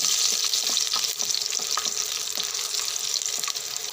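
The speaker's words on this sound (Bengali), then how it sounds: "ভালো করে ভেজে নেব।" Garlic, with a little cumin, frying in hot oil and stirred in a pan, giving a loud steady sizzle broken by frequent light scraping strokes.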